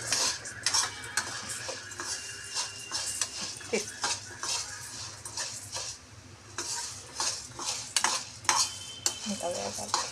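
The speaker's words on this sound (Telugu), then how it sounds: "ఇలా రంగు మారే వరకు వేయించుకొని ఓ 2 రెబ్బలు చింతపండు కూడా దానిలోనే వేసి ఉంచుకున్నాం" Spices and a couple of pieces of tamarind dry-roast in a pan for karappodi, a ladle stirring and scraping in quick repeated strokes with metallic clinks and a faint sizzle beneath, close by, without talk.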